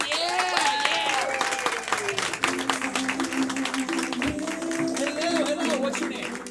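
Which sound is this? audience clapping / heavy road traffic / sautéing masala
audience clapping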